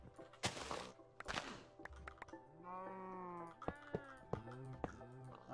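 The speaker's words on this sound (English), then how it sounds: "My goodness, those cows are loud." Cows in modded Minecraft moo in several drawn-out, harmonic calls, fairly close and loud, between sharp clicks and thumps of typing and gameplay.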